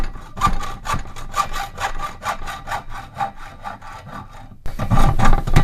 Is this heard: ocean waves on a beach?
no